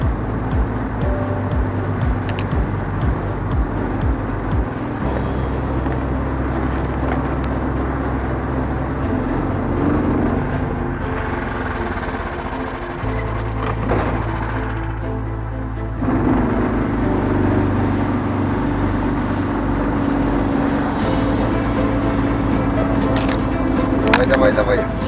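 An off-road Ural truck driving hard through deep spring meltwater, engine droning loudly with shifting low tones and splashing, water churning over a continuous heavy rumble, voices nearby.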